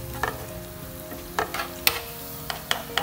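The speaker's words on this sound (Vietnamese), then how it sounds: "Cái miếng tỏi này để vô cho nó thơm." Garlic pieces dropped into hot cooking oil, a continuous sizzle broken by sharp crackling pops and stirring scrapes, close and fairly loud with no talking.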